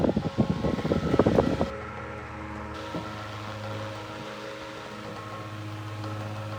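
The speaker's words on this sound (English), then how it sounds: "You're actually going to hear the fan better than me." A vintage 1940s Mastercraft 8-inch single-speed desk fan, model 1000-B, runs with a steady low motor hum and faint rattle, preceded by a brief burst of handling noise.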